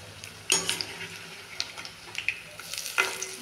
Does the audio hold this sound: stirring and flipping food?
yes